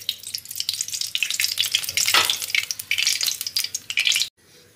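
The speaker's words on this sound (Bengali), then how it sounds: "এবারে কড়াইতে আমি সাদা তেল দিয়ে দিচ্ছি" White cooking oil heats and sizzles in a wok for chilli chicken, a busy crackling hiss with spoon stirs and scrapes, loud and close, cutting off abruptly near the end.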